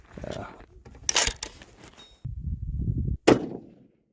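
Rifle shots fired at a long-range target, with a few sharp, loud cracks spaced apart and dull thuds between them, heard up close in an open outdoor setting.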